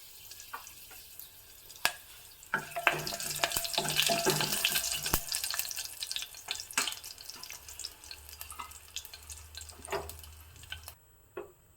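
Curry leaves hit hot oil with mustard seeds and chilli for a Mangalore Brahmin-style tilisaru tempering, a sudden sizzling burst that then crackles and spits unevenly at close range, fading toward the end.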